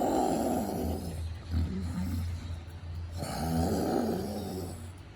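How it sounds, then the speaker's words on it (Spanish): Dog snoring: a deep, rumbling snore with a steady low drone, rising and falling in slow breaths with a pause midway, fairly close and alone without talk. "Perro estaba roncando."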